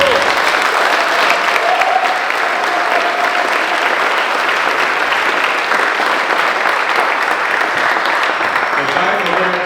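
Sustained, dense applause from a large congregation at a youth worship concert, thanking the band; steady and loud throughout with crowd noise and faint voices mixed in.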